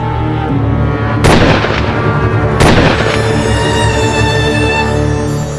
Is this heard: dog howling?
no